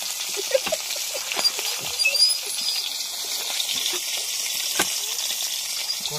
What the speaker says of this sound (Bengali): এখন কলের জলে ধুয়ে নেবো।